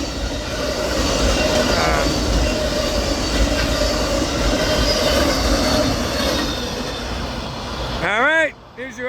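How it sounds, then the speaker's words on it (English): A massive Amtrak Auto Train rumbles past in Palatka, Florida, a steady loud roll of railcars with faint clatter, ending with rising squeals of wheels against the rails. "This is a massive auto train."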